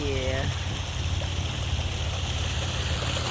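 Water pouring from three pipes into a park pond, a steady trickling, splashing flow heard close and continuous, with a brief voice at the start.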